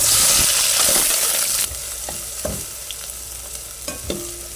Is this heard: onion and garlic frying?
yes